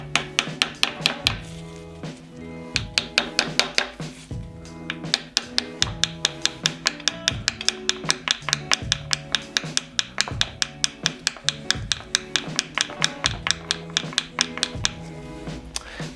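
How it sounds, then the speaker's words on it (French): A big hammer taps the camshaft bearing caps on a Peugeot 205 GTI engine, giving a long series of sharp, evenly spaced metallic knocks, close and moderately loud, with a few brief pauses between runs of strikes. "Alors oui, je prends un gros marteau, mais je vais y aller doucement."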